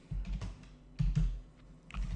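Computer keys clacking in a few quick, close clusters, a short burst of typing with brief pauses between strokes and no voices.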